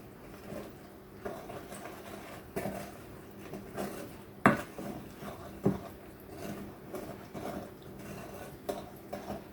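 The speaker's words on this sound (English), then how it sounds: "just put in about half, and then very gently start to mix that all together." Milk and egg gently mixed into pancake batter in a bowl, with soft scraping and stirring under a faint room hum and a couple of sharper clinks of utensil against the bowl.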